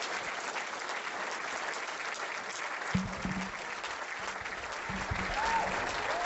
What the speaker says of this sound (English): I have a round of applause for Kevin Shipp